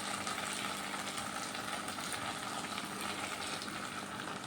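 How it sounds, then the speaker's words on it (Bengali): Hot water hits frying onions and spices in a pan, raising a dense, continuous loud sizzle and bubbling hiss that holds steady throughout, close up with no voices. "এবার দিচ্ছি জল, এটা গরম জল দিচ্ছি।"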